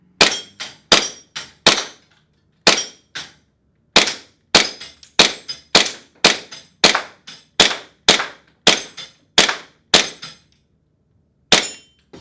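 Tokyo Marui M9 airsoft pistol firing at small popper targets, about sixteen sharp cracks, each followed by a metallic ping of a target being hit, coming in an irregular rapid string with short pauses, close and loud.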